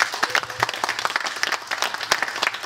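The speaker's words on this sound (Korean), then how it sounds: "뜨거운 박수 부탁드리겠습니다." Audience applause welcoming a lecturer on midlife health at a public talk, dense steady clapping from a crowd lasting a few seconds with faint voices underneath.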